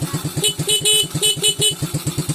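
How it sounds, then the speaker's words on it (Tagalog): A motorcycle horn beeps in quick repeated bursts, loud and close, a rapid stuttering honk pattern lasting a couple of seconds. "Busina"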